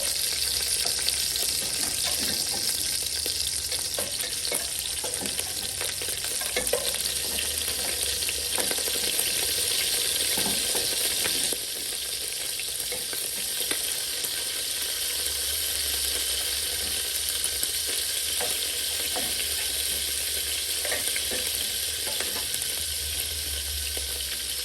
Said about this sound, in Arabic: وهنا بلشت أحمس. خليت زيت يعني التسخير أحمر في الزيت.